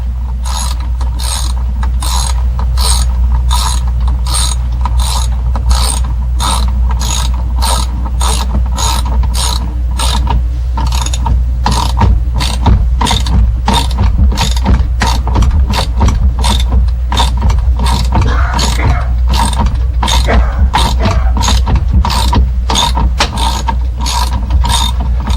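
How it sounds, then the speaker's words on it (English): A ratchet wrench clicking steadily as it turns a socket on a General Motors steering column ignition, a fast, loud, continuous run of sharp mechanical ticks up close. "then use a ratchet, put your finger against the socket real tight so you can ratchet backwards"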